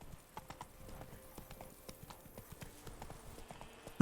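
Horse hooves clip-clop in a steady galloping rhythm in The Witcher 3 video game, with regular sharp hoofbeats over a low rumbling game background, moderately close and without speech.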